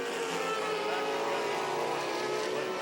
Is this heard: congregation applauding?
no